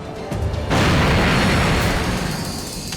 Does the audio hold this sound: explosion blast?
yes